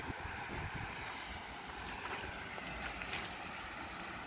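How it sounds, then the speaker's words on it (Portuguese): Strong wind in Belmonte, Portugal buffets the microphone with a constant roaring rumble and gusty swells, with no voices. "apesar que tá bem ventando"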